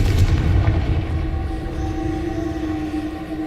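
Confringo blasting spell in the Hogwarts Legacy video game: a heavy booming explosion right at the start, fading into a low rumble with a steady humming tone underneath, no voices.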